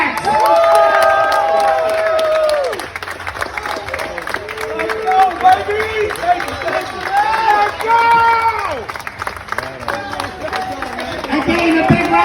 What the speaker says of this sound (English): Again, a big round of applause for all our winners.